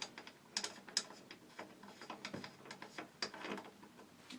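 A ratchet socket wrench clicks in quick, uneven bursts as it loosens the front nut on a 49cc pocket bike during an engine rebuild, close and fairly quiet, with no talking.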